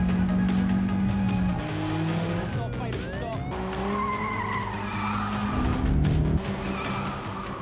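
Police cars chase the robbers' car in an action movie, tires squealing and skidding in several sharp bursts over roaring engines, with a narrator speaking over the scene.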